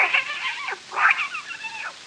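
A kitten meows twice in quick succession, each a rising then falling cry, close and fairly clear against a hissy old-recording background; the sound may be a voice imitating the animal.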